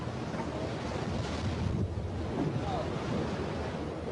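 Continuous broadband roar of open ocean with waves and heavy wind buffeting around a sinking cargo ship at sea, loud and unbroken throughout.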